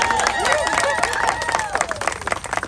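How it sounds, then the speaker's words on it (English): Crowd clapping at an outdoor worship and communion service on Capitol Hill, steady and fairly close at first, thinning into scattered individual claps toward the end, with voices and tonal sounds woven through. "You can clap."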